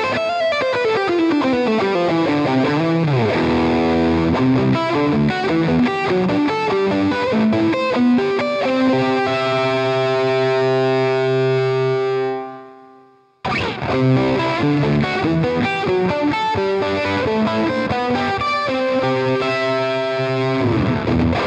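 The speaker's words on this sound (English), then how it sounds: "you start to get some of the spitty fuzz tones." Electric guitar played through a Walrus Audio Eons fuzz pedal set for spitty, sputtering fuzz, loud and continuous with a descending run into sustained notes, a brief cut to silence, then more gritty chords alone.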